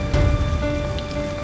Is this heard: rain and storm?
yes